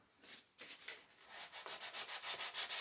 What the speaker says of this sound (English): Sometimes sandpaper is the solution.